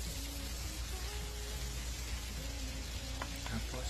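Garlic sizzling in a pan with ground meat for chaofan, a steady close frying hiss with a few faint stirring knocks near the end, no talking.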